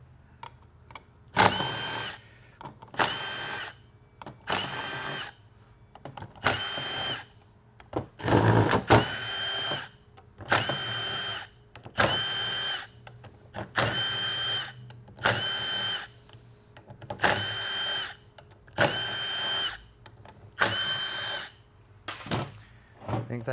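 Power drill spinning out bolts from a GM 6L90E transmission valve body, about ten short whirring bursts in a steady rhythm with brief pauses between, close and fairly loud.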